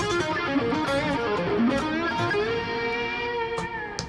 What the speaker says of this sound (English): I have it going into distortion pedal here for extra gain